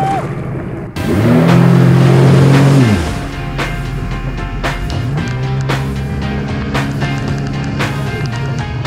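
A Spark or RX-T X personal watercraft revs hard on the water. Its engine pitch climbs and holds, drops, then surges again, loud and close, among splashing knocks.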